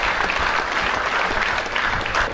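A crowd applauds the FIFA president at the opening ceremony of the Festival des Îles 2023, dense continuous clapping that stays loud and even for a couple of seconds.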